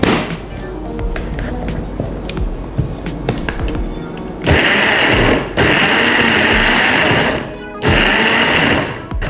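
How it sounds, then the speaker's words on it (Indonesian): A kitchen blender coarsely blends chili sauce ingredients in a loud, continuous whir that starts partway through and cuts out briefly, following clattering kitchen noise. "Sekarang kita blend."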